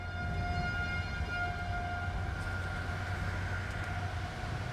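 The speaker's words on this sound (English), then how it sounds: "It looks like sirens are still going off in the Kansas City area." A steady, distant civil defense siren in the Kansas City area during severe storms drones on with a sustained tone over a low background rumble, no voices.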